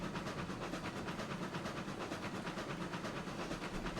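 A locomotive runs on newly laid track in the RailRoads Online train game, a steady rumbling roll with rhythmic wheel clatter and a faint hiss, constant and moderately loud.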